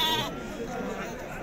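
Sheep bleat at a livestock market, a short close call rising at the start over a busy crowd of chatter and background voices.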